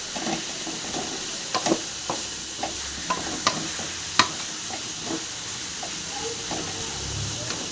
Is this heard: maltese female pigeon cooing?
no